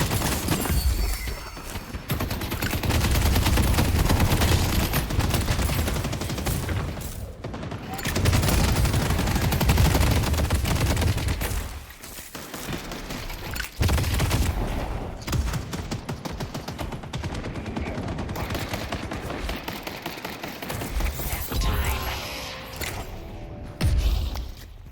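Turrets firing in Deadlock, dense bursts of gunfire crashing over a loud mix of game effects, with brief drops between heavy stretches.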